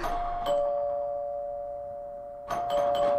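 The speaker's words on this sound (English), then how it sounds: "Oh, doorbell." A clear electronic doorbell chime rings, holds a long sustained tone, then sounds again near the end in a quiet room.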